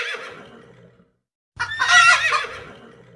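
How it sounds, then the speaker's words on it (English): A horse neighs twice nearby, a shrill whinny followed by a brief silence and then a second, louder whinny, with no voices present. "Horse,"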